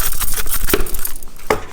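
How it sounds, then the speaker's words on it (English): House keys and car keys on a Louis Vuitton key holder give two or three close, bright metallic clinks amid light handling rustle. "I'm gonna put my house keys and my car keys."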